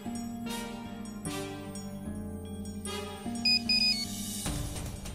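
A phone rings during a call, with a bright repeating ringtone melody carrying over sustained music, clear and fairly loud, ending in a burst of noise.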